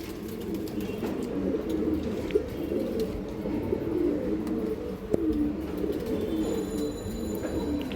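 Pigeons of old-line breeds at a pigeon farm cooing continuously in a dense chorus, many birds close by with overlapping low throaty calls and occasional chirps.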